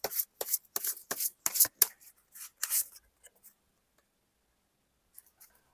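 Tarot cards are handled and drawn close up in a quiet room, a run of crisp flicking and snapping card sounds in quick succession, then softer rustles and a long near-silent pause before a few faint last taps.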